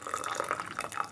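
Water pouring from a VEKTRA kettle while brewing tea, an uneven liquid splash with irregular drips and spurts over about a second, fairly close and moderately loud.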